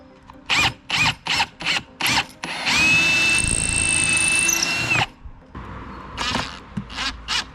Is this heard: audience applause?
no